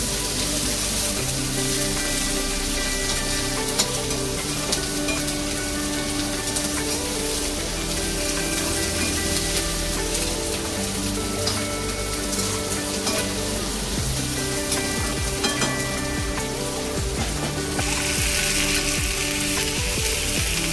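Chopped onion sautés in oil until browned for a bhindi fry okra dish, a loud, continuous crackling sizzle held close and unbroken for about twenty seconds with no voices.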